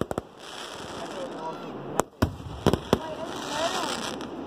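Fireworks go off nearby in a series of sharp bangs and crackles, with voices talking in the background.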